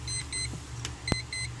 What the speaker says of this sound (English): You heard the beeping.